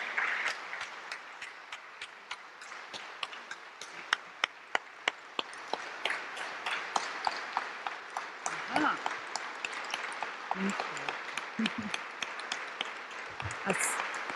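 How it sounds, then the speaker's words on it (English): A round of applause from the congregation at Mas Mariam as Mother Tynnetta Muhammad is received, steady broadband clapping with scattered sharp claps lasting throughout, moderately distant with faint talk and shuffling underneath. "Help me to receive her with a warm round of applause."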